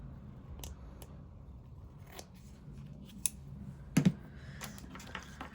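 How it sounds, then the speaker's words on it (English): Scissors trim excess paper off a handmade Valentine label card: sparse, quiet snips and clicks spaced irregularly, with a slightly louder double cut near the end. "I'm just going to trim off the excess."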